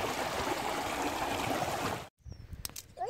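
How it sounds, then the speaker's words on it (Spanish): River water rushes and gurgles steadily near Cuautla, loud and continuous for about two seconds, then cuts off abruptly to quieter outdoor sounds with faint scattered noises. "Pues estamos aquí todavía en el río."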